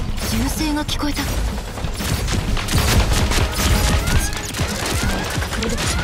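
Gunfire bursts from the mobile shooter Super Mecha Champions, dense rapid shots layered over continuous mechanical and explosion-like game noise throughout, loud and busy, with no speech.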